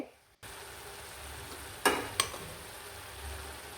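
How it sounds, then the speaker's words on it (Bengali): A steady sizzle of onion stalks frying in a pan, broken by two sharp scrapes of a utensil stirring them, with no one speaking. "এখন আমি আবার নেড়ে চেড়ে দিচ্ছি"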